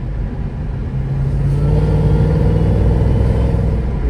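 Mercedes E55 AMG engine pulling under light throttle from inside the car, a steady deep rumble that builds slightly in loudness, with no talking.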